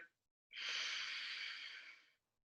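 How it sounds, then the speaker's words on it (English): A single slow, soft inhale through the nose during a guided breathing exercise, breathy and close, lasting under two seconds between stretches of silence. "Breathing in."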